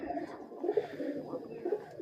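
Soft, low pigeon coos repeat close by, a murmuring bird call with nothing else around it.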